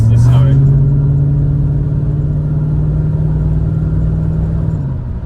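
Holden Commodore VS SS with a 5-litre V8, holding a deep, steady rumbling idle close by that eases off slightly at the end, loud and unbroken throughout.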